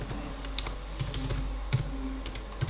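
Fingers type quickly on a computer keyboard nearby, tapping light, uneven clicks with a few louder keystrokes over a low background hum and no speech.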